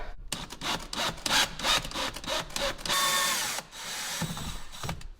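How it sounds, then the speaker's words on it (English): A drill bores a hole for a fuel or battery level gauge on an electric snow blower, grinding in repeated short bursts, then running steadily for a second before more choppy bursts, close and loud with no talking. "It's time to drill the hole for the fuel level gauge or battery level gauge."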